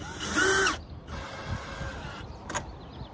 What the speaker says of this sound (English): I got my trusty drill with the 7/16 socket